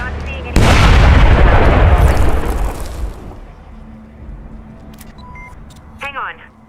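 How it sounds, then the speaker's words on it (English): A grenade in the Splinter Cell Blacklist co-op horde mode bursts with a single loud, close boom that rumbles and decays over a few seconds, followed by quieter game noises and brief electronic blips. "Grenade out! Grenade, heads up!"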